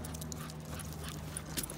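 A Shiba Inu dog plays energetically up close, producing busy scuffling, scrabbling and panting-like noise throughout a brief burst with no talking.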